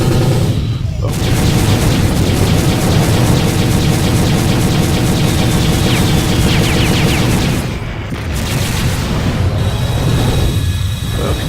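Spaceship weapons fire in FreeSpace 2 amid a constant loud roar of booming blasts and rumbling engine noise, with a few brief dips, and a voice talks faintly beneath.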